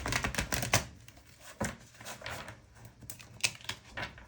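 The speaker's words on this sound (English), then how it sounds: "I'm going to pull all of the oracle cards and then talk you through them" Oracle cards are shuffled and handled at close range: quiet, irregular papery taps, flicks and soft slaps of card stock, with no voices.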